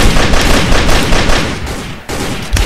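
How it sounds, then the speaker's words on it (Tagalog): Rapid automatic gunfire from a weapon picked up in the stealth video game Sneak Thief, set on a yacht, rattling loud and continuous for over two seconds with a brief gap before resuming. "Kunin natin tong pick up weapon. Nice. Barilin natin to."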